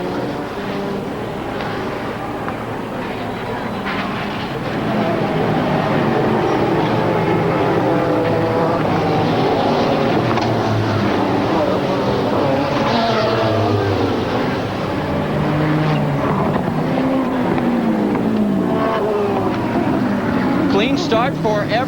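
A pack of 1991 IMSA GTO race cars roars down the Miami straightaway at the green-flag start. A dense, rising blend of engine howls swells after the first few seconds and stays loud under steady commentary.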